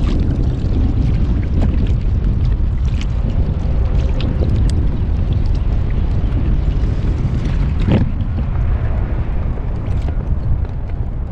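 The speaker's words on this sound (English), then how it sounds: "You guys probably can't hear me with the wind." Strong wind buffets the microphone on a fishing kayak at sea off Port Canaveral, Florida, a constant loud roaring rumble with gusty thumps throughout and no clear talk.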